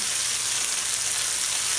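Chicken shawarma sizzles and fries steadily in a frying pan, a dense, continuous hiss of hot oil heard up close without pause or talk.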